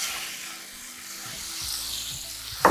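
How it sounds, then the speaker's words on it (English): Shrimp for a jerk shrimp dish hit hot oil with a bright, continuous sizzling hiss, joined by low clinks of utensils and a short sharp knock near the end. "So my oil has heated sufficiently, so I'm gonna add the shrimp."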